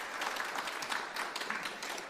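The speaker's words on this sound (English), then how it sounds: "Why don't we give her a round of applause?" Audience applause at an evening library event in Sydney, a steady wash of many hands clapping for the organising archivist, sustained and fairly even throughout with no speech over it.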